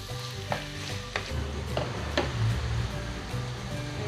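Chicken sautéing in a pan for empanada filling, a steady low sizzle with occasional clacks of a spoon stirring against the pan, close and fairly quiet.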